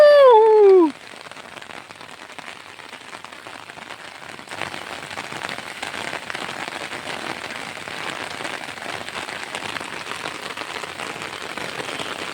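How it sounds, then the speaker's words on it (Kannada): Heavy rain pours down in a green outdoor setting, a dense, loud, continuous patter and hiss of drops on surfaces that holds steady and thickens slightly midway, after a brief tonal chirp at the very start. "ಚಿಟಪಟ ಅಂತ ಹಿಡ್ಕಂತ, ಮಳೆಯು ಹಿಡ್ಕಂತ ಜೋರಾಗಿ ಬರೋದು"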